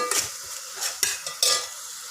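Grated carrot frying in ghee with sugar and cardamom powder for carrot halwa, a soft continuous sizzle with a few sharp spatula scrapes against the pan, close and without talk.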